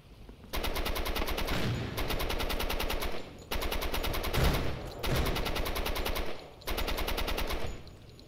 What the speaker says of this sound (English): we're just throwing machine gun fire and